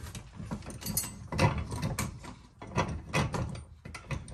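Metal bolts being fitted by hand on a Duke 850 trap modified for wolves, giving faint scattered clinks and scrapes of metal on metal with soft rattling between them.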